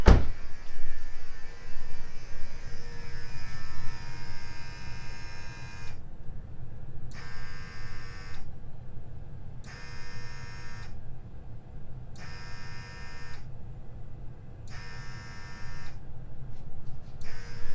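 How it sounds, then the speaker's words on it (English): A car vacuum pump runs non-stop with the ignition on, a steady electric buzz that first drones continuously and then pulses on and off in regular two-second bursts over a low background hum. "people in the past have said that it sounds like my vacuum pump is running"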